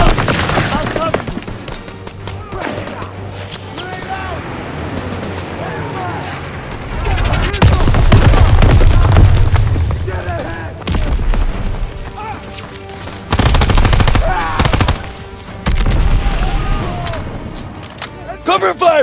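Heavy gunfire in Call of Duty WW2, a wartime battle with rifle and machine-gun bursts plus booming blasts, loud and dense, with shouted voices mixed through the chaos.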